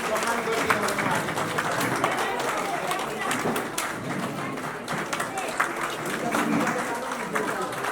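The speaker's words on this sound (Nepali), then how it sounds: "सबैले ताली बजाएर सम्मान गरिदिन हुन" People at a temple inauguration ceremony held during Dashain give a sustained round of applause that goes on throughout, with voices from the crowd mixed in.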